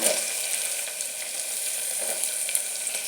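Onions sizzle and hiss steadily in hot oil in a pan with garlic and green chillies, a continuous close frying crackle with no talking.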